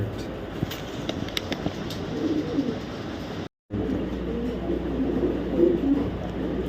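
Racing pigeons of a foreign bloodline, including a female, coo softly and repeatedly close by, their low burbling calls over a light background hum, with a brief silent gap midway.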